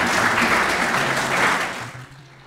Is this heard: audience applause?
yes